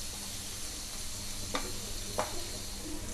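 Onions fry in an open pan, giving a steady close sizzle throughout, with two brief scraping stirs part way through.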